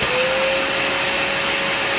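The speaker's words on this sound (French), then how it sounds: "Donc je vais utiliser mon gonfleur qui fait du bruit." Electric balloon pump inflating a 646 modelling balloon: a loud, steady motor whine with airy rushing noise throughout, close and unbroken.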